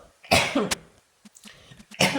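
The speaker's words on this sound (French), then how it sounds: "Je suis désolée, je continue à tousser" Two bursts of harsh coughing, close to the microphone, separated by a short pause with a few faint clicks.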